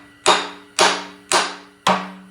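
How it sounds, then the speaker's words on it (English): A hammer strikes a stuck bolt four times at an even pace, each sharp metallic clang ringing briefly before the next, close and clear with no talk. "So I'm gonna first get a hammer."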